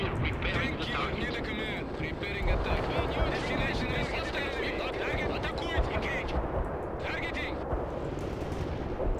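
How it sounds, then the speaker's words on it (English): Explosions and artillery fire in the real-time strategy game World in Conflict, a dense continuous barrage of booms and crackling blasts with aircraft-like roar, under steady background noise. "when those explosions go by, woo, they're good"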